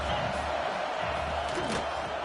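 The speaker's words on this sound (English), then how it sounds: "This crowd rising up, sensing that its defense needs some help." A stadium crowd in a college football video game roars and cheers in a continuous wash of noise, a steady swell throughout, with no clear talk over it.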